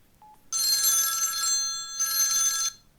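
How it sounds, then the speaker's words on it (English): A telephone bell rings in two long electronic bursts separated by a short gap, loud and close with no one talking. "This is the sound of a ring."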